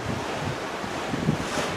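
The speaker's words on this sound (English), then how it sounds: "The wave action is tremendous going across." Open-ocean waves rush and churn against a cruise ship on the crossing to Madeira, a steady broadband wash with heavy wind noise on the microphone and no talking.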